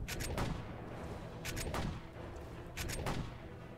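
Gunfire from a Marvel Strike Force mobile game comes in quick bursts of two or three crackling shots, repeated a few times over a steady, muffled game backdrop.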